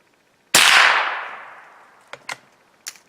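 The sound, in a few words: 22 caliber rifle shots with CCI Mini Mag ammunition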